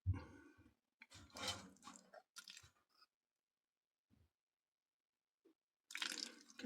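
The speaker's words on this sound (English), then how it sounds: "I want to shut this water off here" Water running from a tap at a cabin plumbing job, bursts of rushing flow that stop and start with quiet gaps between, close and moderately quiet.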